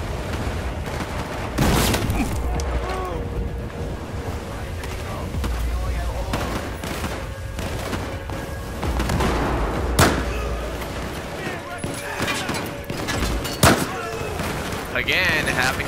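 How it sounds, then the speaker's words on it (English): A grenade explodes during a Battlefield 4 campaign battle. A heavy boom stands out among repeated gunfire blasts and rumbling game noise, and a voice talks over parts of the scene. "Grenade."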